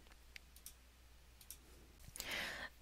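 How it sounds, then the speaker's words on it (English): A return key pressed on a computer keyboard gives faint, sparse clicks in a quiet room, a few isolated taps followed by a brief soft breathy rustle near the end. "now on my keyboard I'm going to hit return to go"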